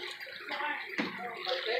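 Water splashes and sizzles as it is poured little by little onto buche cooking in a hot disc cooker, a steady hissing wash of sound lasting a couple of seconds.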